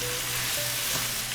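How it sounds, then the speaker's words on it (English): Mushrooms and onions cooking down in a pan, a dense, loud, steady sizzle heard close up with no other sounds. "While the mushrooms and onions are cooking down"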